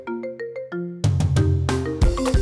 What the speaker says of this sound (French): Mais c'est quel téléphone ça là-même?